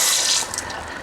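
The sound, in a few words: water running while rinsing chicken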